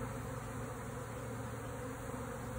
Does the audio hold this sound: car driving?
no